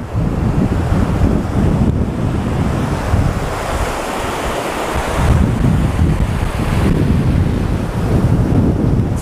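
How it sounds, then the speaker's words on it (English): Ocean surf breaking steadily on the beach at Muriwai, a continuous loud wash of waves with heavy wind rumbling across the microphone throughout. "Wait for those waves."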